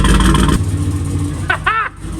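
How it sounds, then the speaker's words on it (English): A faulty car engine in a turbocharged sleeper build runs rough on only four cylinders, first loud and close, then dropping to a lower drone as a voice speaks over it. "Oh, it's running on 4 cylinders."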